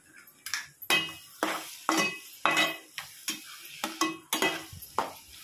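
Egg bhurji stirred in a pan with a utensil, a steady run of about a dozen rhythmic scraping strokes against the metal with a faint sizzle underneath, close and clear.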